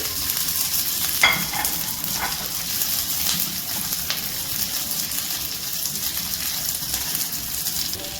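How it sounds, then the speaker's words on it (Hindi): Capsicum and onion sautéing in a hot pan, a steady loud sizzle with scraping stirs throughout, no voices. "वेजिटेबल्स डालते हैं, कैप्सिकम और अनियन और इसे अच्छा सा में सॉटे करते हैं"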